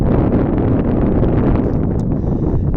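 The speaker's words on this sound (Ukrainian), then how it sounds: "Зараз великий вітер, зараз покажу поле." Strong wind blows across an open farm field, a loud, constant roaring rush buffeting the microphone with no letup and no voices.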